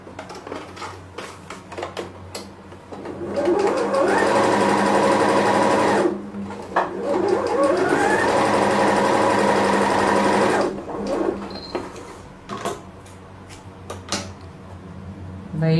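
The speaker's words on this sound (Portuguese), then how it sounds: "vou passar a costurinha reta aqui na lateral dele" A sewing machine runs a straight seam along the side of a pink plush strip for a fox baby comforter, with two long steady bursts of motor whir and needle rattle separated by a short pause, then light handling clicks.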